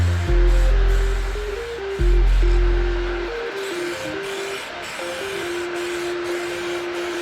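Spray painting a second coat on a 2004 Ford F-350, a steady hiss of a spray gun running continuously under an on-and-off compressor hum that cuts in and out twice before settling into a faint steady drone.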